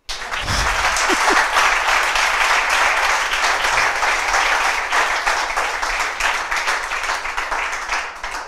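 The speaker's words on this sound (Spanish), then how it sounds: "va a aplaudir" Audience applause closing a talk on AI marketing strategies for startups, steady and fairly loud throughout, a dense crowd of hands clapping with no speech over it.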